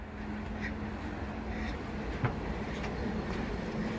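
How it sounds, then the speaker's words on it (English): A resort monorail near Magic Kingdom passes by as a steady, moderately distant rail rumble that holds evenly through the whole moment. "Now that's the resort monorail."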